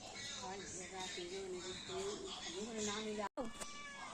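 Two cats meow, rising and falling repeatedly, close and fairly faint, with a brief dropout near the end.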